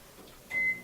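A phone gives a single short electronic beep, a clear steady tone near the end that stands out briefly over faint background noise.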